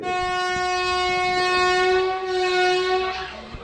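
A passenger train's horn sounds one long, steady, loud blast close by, with rumbling rail noise beneath as the train rolls into Ettimadai railway station in Tamil Nadu.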